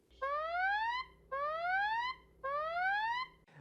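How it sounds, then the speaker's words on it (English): A phone's emergency SOS alarm sounds during the countdown before it calls 911. Three loud, identical rising electronic sweeps repeat at a steady rhythm, each about a second long with short pauses between them, heard clearly on their own. "an alarm sounds in the last few seconds to alert you it's calling 911"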